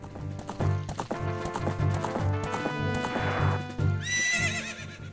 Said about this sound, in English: I don't understand why she neighs every time.